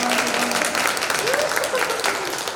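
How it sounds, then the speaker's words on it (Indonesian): Wedding guests applauding at a church wedding blessing, a sustained burst of clapping from a crowd with some voices mixed in, tapering slightly toward the end. "Oke, tepuk tangan."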